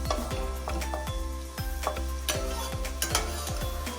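Pineapple pieces roasting in ghee in a pan for pineapple rava kesari, crisp sizzling punctuated by quick rhythmic spatula taps and scrapes, close and lively.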